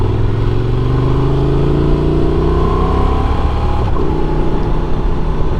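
A Honda Transalp 750 adventure motorcycle engine pulls hard on an open road, the mid-pitched drone rising steadily through the revs before a gear shift drops the tone and it climbs again, close and loud with no talk.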